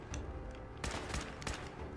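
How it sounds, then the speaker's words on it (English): Gunshots in the video game Fallout 4, a few sharp cracks in quick succession over a low rumbling background, moderately faint. "Yes, I'm shooting them right now."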